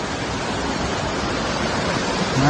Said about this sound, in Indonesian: Nah, kita udah sampai di sungai.